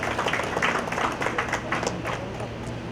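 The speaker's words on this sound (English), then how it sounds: "A round of applause, ladies and gentlemen." Audience clapping at a police award ceremony during a flag raising, a moderate round of applause heard close and steady with a brief voice over it.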